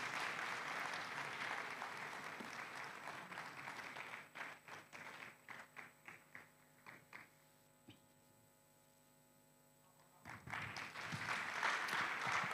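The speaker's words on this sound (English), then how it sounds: "let's clap for them" Award winners collecting certificates at a ceremony are greeted with loud sustained applause from an audience, thinning into scattered individual claps before a quiet gap and then swelling again into full clapping, with a steady electrical hum underneath.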